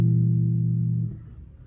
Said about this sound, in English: I'll play a diminished like this here